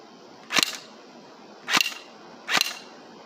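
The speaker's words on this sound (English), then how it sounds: "I'll shoot them a couple times and see how they hold up" Three sharp shots from a cheap airsoft AK-47 fired at a pair of glasses, evenly spaced about a second apart, each a crisp snapping crack with a short tail, close and loud against a quiet background.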